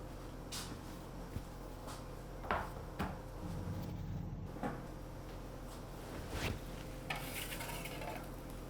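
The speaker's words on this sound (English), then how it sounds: "I'm going to pull them out of the oven and turn them over" A baking tray of aubergines comes out of a kitchen oven: several sharp metallic clanks and knocks from the tray and oven door spread over a quiet, humming room, with no talking.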